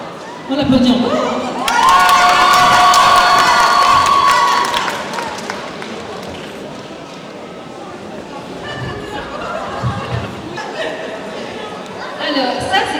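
A crowd at a manga festival contest breaks into loud cheering and shouting that swells, holds for a few seconds, then fades into chatter and scattered voices.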